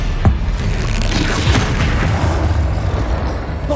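A Stupefy spell impact from the Hogwarts Legacy video game lands as a loud, dense boom with a sharp hit near the start. Steady, rumbling combat noise runs underneath throughout.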